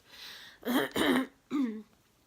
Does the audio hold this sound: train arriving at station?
no